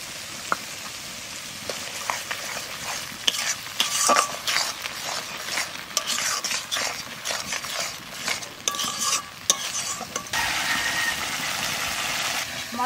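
Spices are fried with a ground cashew and poppy seed paste for a paneer and cauliflower dish, giving a steady close sizzle broken by scraping stirs and clinks, with brief talk mixed in.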